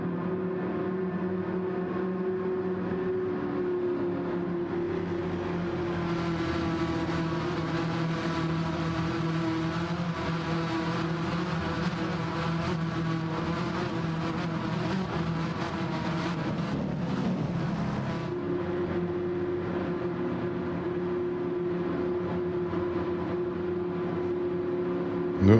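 Race car engines of an Audi and a Citroen in Gran Turismo 7 hold a steady droning whine with sustained harmonic tones that shift slightly in pitch, continuous and fairly loud throughout with no talk.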